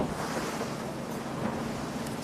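Ocean waves and rushing wind at sea during a TP52 sailboat racing championship off Cascais, a steady broad wash of surf and spray that stays loud and continuous throughout without any talking.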